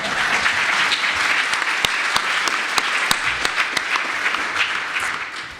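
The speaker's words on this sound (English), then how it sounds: "Round of applause." An audience at a cocktail-industry chemistry seminar applauds steadily, with dense clapping that holds at an even level throughout and a few sharp, individual claps standing out close by.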